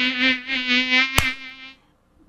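A mosquito's steady, high-pitched whine holds close and loud for nearly two seconds with a sharp slap midway, then cuts off into silence, part of a health campaign in Lima.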